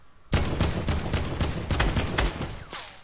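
Rapid automatic gunfire in the video game Fortnite, a loud close burst of repeated shots in a steady rhythm lasting a few seconds, with no talk over it.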